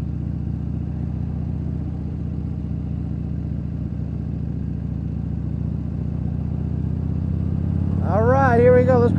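A motorcycle is ridden over gravel. Its low engine drone holds steady and close throughout, then climbs in pitch and loudness near the end as the throttle opens.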